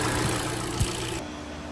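A Kia Soul 2.0 engine idles with a steady low rumble and hum, close and continuous, with one brief thump partway through.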